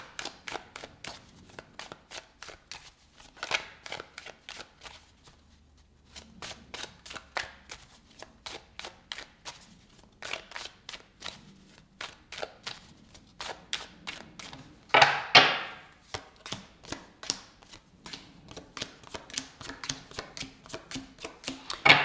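Tarot cards being shuffled and handled in repeated quick riffling bursts, crisp and close, with brief pauses between rounds and no talking.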